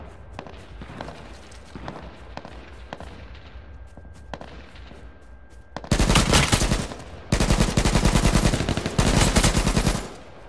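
Gunfire in a free-for-all video game match: a few scattered shots at first, then loud, sustained bursts of rapid automatic fire close by, separated by short pauses.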